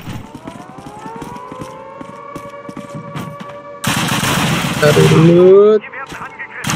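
Video game gunshots crack as sharp, scattered shots over a sustained wailing siren-like tone, building to a loud, dense burst, while a voice speaks briefly.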